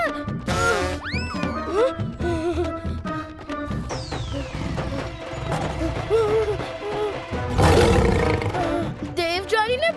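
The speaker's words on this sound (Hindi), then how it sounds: "पता नहीं ये शेर मेरे पीछे ही क्यों पड़ गए।" Cartoon lions roar loudly and repeatedly in an animated chase scene, the roars overlapping with bright music, swooping effects and a loud crash-like burst midway.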